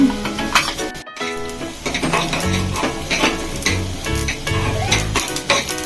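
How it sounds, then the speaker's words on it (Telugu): Coriander seeds fry and sizzle in a pan, crackling steadily up close while a spoon stirs and clinks against the metal throughout. "ధనియాలు అనేది కొంచెం లేట్గా వేగుతాయి కాబట్టి ధనియాలు కొంచెం వేగిన తర్వాత"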